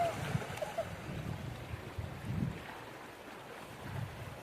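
Fresh water flowing along the Nagarjuna Sagar canal, a steady broadband rushing wash with low rumbling surges, close and continuous, with wind buffeting the microphone.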